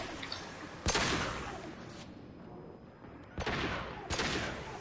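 Gunfire in the video game Mass Effect 2: a few sharp, loud blasts rising over a busy, noisy game backdrop, with one near the start and a pair of bursts close together toward the end.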